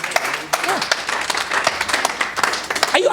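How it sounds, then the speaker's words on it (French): A church congregation claps and cheers for Jesus, dense applause filling the room with a voice speaking over it. "Can you put your two hands together for Jesus?"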